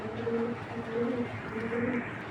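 A racing pigeon hen coos close by in three soft, rhythmic throaty phrases, moderately quiet, with no talk.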